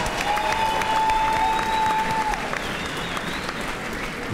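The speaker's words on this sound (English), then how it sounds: "let's give both fighters a big round of applause" Crowd applause at an All Star Boxing fight after four rounds, a continuous roar of clapping from the arena audience, loud and sustained, with a faint tonal whine early on.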